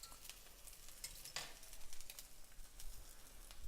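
Barbecue sauce at a steady boil and simmer in a pan, a continuous soft bubbling and sizzling hiss with occasional stirring clinks, fairly quiet and close, no voices.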